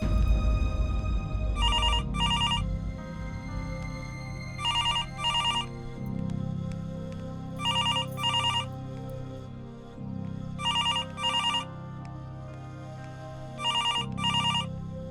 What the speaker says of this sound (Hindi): किसी को तो उठाना पड़ेगा फोन।